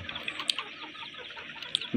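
Faint, scattered clucks and chirps from a group of pullet hens over a steady low hum, with no one talking.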